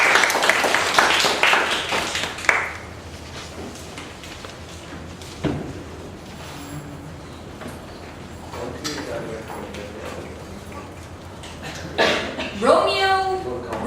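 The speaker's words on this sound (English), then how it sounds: "A round of applause, please." Audience clapping at a Toastmasters club evaluation session, a dense burst of applause over the first two and a half seconds that fades into quieter room sound, followed later by speech.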